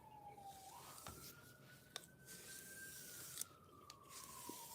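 A faint, distant siren slowly rises and then falls in pitch, with a few soft clicks and knocks nearby.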